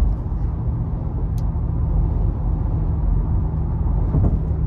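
A 2023 Mercedes-Benz G550 G-Wagon with a twin-turbo V8 cruises along, heard from inside the cabin as a steady low engine and road rumble, loud and constant without any talking.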